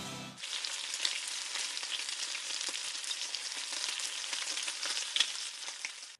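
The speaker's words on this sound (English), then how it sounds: "if that sizzling sound made your mouth water" Food fries in a hot pan with a steady, bright sizzle and popping spatter that runs close and loud without pause, no voices over it.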